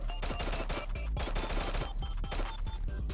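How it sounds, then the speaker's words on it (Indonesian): Rapid bursts of Scar assault rifle fire from the Free Fire battle royale game, dense repeated shots running continuously and loud throughout with no voices. "Senjata yang pertama yaitu Scar cuy."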